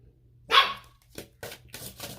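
A nearby dog lets out one loud, sharp bark followed by a few quieter, choppier barks in quick succession, with a low steady hum underneath.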